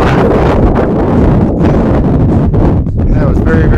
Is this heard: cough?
no